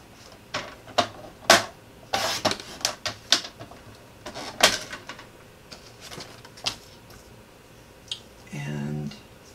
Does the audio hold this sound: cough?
no